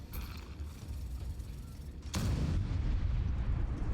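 Units firing in the Roblox strategy game Mini Empires: a steady rumbling barrage of game weapon fire, then a sharp louder blast midway that leaves the rumble heavier and denser, with no speech.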